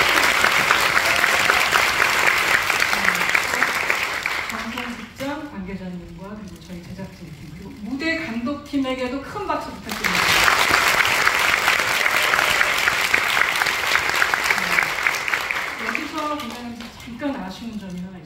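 Bursts of crowd applause at a musical's final-performance curtain call open and close the stretch, with a person speaking between them and faint talk under the later clapping.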